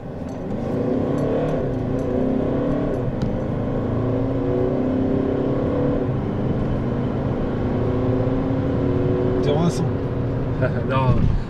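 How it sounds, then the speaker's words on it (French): Red Mercedes A180 CDI W176 diesel car accelerating from inside the cabin, a steady engine drone building with torque over about eleven seconds, loud and continuous, with people talking over it. "Elle a une bonne accélération, ça a du couple, c'est une diesel."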